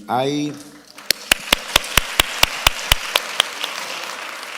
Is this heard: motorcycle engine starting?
no